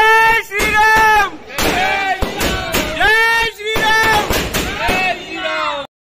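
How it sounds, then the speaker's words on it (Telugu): Firecrackers burst at a temple celebration in loud, rapid back-to-back cracks and bangs that go on almost without pause, with cheering voices underneath. "ఎన్ని టపాకాయలు కాల్చిరంటే అన్ని టపాకాయలు అండి"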